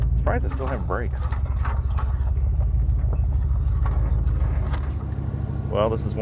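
A car's 5.3L LM7 V8 engine idles with a steady low rumble, close by, while voices talk over it intermittently.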